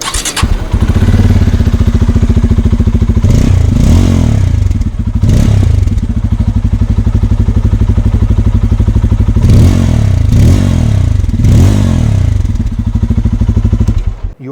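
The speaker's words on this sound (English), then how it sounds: "let's switch the bike on and give you a listen on how it sounds" A Bajaj Pulsar 250 motorcycle engine idles with a steady, throbbing low rumble, interrupted by several sharp revs that rise and fall, loud and close throughout.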